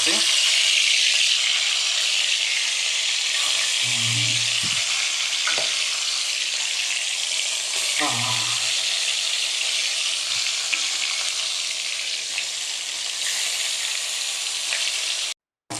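Fish frying in hot oil for an Odia fish curry, a loud, dense, even sizzle that continues almost unbroken, with brief low murmurs of speech in the background and a sudden stop at the end.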